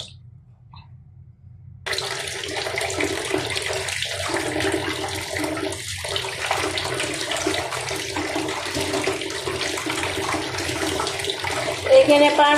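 Cut fish get washed under a strong, steady stream of running tap water that splashes continuously and loudly close by. Faint sounds of handling come through underneath.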